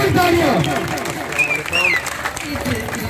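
An audience applauds at the opening of an election office for an assembly candidate, dense clapping mixed with crowd noise and a voice over it through the short stretch.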